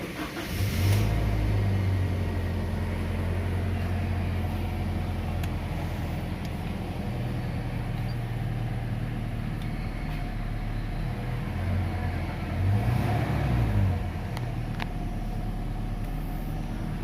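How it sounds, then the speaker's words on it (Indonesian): A 2005 Toyota Kijang Innova type V with a 2.0 petrol engine started with the door open, a brief starter crank then a steady mid-pitched idle, with a slight rev swell later, close and continuous, no talking. "Kita start mesin dengan pintu terbuka."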